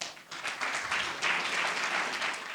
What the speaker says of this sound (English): George, give him an applause.